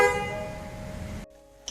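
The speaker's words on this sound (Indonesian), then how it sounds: "Saya mengganti klakson PCX ini dengan klakson Denso waterproof." A loud, steady waterproof Denso horn on a 2018 Honda PCX scooter blares up close for over a second, then cuts off abruptly, leaving a brief quiet tail.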